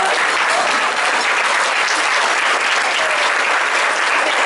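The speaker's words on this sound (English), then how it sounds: "Now you can applaud." Audience applause at a Woman of the Year luncheon after officers are introduced, a dense, steady wash of many hands clapping, loud and close, sustained throughout without pause.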